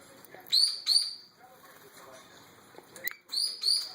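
A baby Meyer's parrot gives sharp, high chirps in two short pairs, near and fairly loud, with quiet room noise and faint soft sounds between them.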